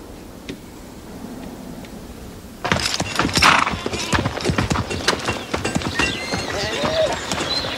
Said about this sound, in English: That's a fine horse, a real warrior.